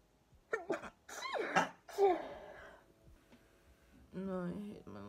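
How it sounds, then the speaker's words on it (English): A person with spring allergies sneezes in a rapid sneeze attack, several close, sharp, loud sneezes in quick succession with breathy gasps between, followed by a short stretch of voiced sound. "I just had a sneeze attack."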